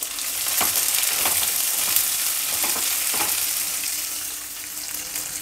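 Sliced large onion, cumin and green chilli fry in hot oil for chitranna, a loud continuous close sizzle with occasional stirring scrapes.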